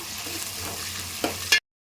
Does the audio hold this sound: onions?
yes